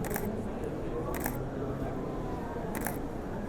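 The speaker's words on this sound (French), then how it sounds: "on va essayer le continuous shooting" A camera shutter fired by remote release in continuous shooting mode snaps in short bursts, three separate clicking clusters spaced about a second or more apart, close and crisp over a steady background murmur.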